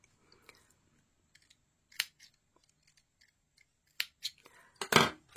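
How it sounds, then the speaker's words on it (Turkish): Scissors snip green yarn on a crocheted baby vest, a few quick sharp cuts spaced apart in a quiet room, ending in a louder close burst of snipping. "Şimdi bir üst sırada yeşil ipimi de yine burada gizleyeceğim ve keseceğim"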